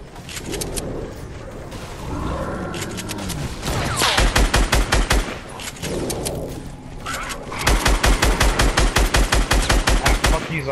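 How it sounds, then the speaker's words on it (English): Heavy automatic gunfire in a Fortnite Battle Royale sniper duos match, loud rapid bursts of shots rattling in long volleys, with a short pause before another sustained stream of fire. "People shooting us from the north,"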